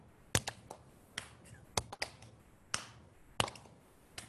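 A yoga practitioner claps her hands in time with a kundalini back and metabolism kriya. The claps land as a handful of sharp, close slaps at irregular intervals over a quiet room hush.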